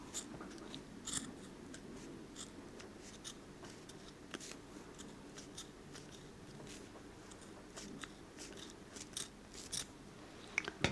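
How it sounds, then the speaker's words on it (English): Quiet, crisp snips of old scissors cutting junk journal page edges repeat irregularly through the clip, close by, over a soft low background hum. "These scissors are hopeless."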